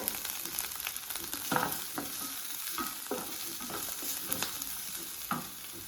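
Chopped ginger stirred in a frying pan with garlic and green chili for a mushroom curry: a steady close sizzle with repeated scraping strokes of the spoon across the pan, no one talking.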